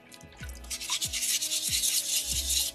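Soapstone rubbed with sandpaper in steady back-and-forth strokes, close and rhythmic, each stroke a soft scratchy rasp.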